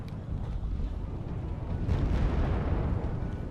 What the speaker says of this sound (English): Never a good thing to lose supply trucks. They do make quite a wicked explosion.